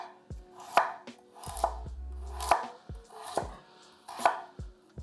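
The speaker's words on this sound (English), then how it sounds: "just cut a little piece off the side so that it sits flat on the board" A knife chops through carrot on a cutting board, trimming a piece off the side, in five sharp, evenly spaced thunks with crisp board knocks and no talk.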